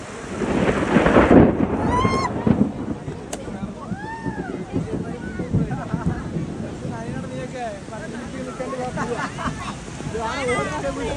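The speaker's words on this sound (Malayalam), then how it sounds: "ഇപ്പോൾ ഇടിയും പൊട്ടുണ്ട്" Thunder rumbles and crackles amid noisy outdoor ambience at the Mangottukavu Vela fireworks festival in Kerala, with people talking and exclaiming over it and occasional whistling tones.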